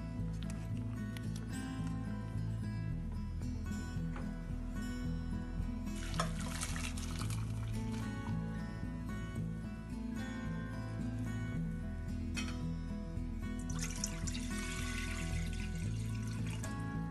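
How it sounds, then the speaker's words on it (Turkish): Water pours into a cooking pot while making lemon jam, a soft splashing stream that swells in brief bursts over quiet background music. "Tencereye tekrar su aldım."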